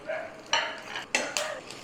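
Fresh curry leaves crackle and pop in hot oil in a pan while cooking crispy cauliflower 65, a few sharp sizzling bursts close by.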